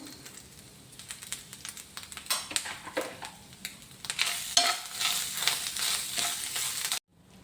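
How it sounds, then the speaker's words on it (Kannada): Grated coconut is dry-roasted and stirred in a pan for a ladies finger gojju masala, giving close scraping and light crackling that builds, then cuts off abruptly near the end. "ಈ ತೆಂಗಿನ ತುರಿನ ಸ್ವಲ್ಪ ಬಿಸಿ ಮಾಡುವ"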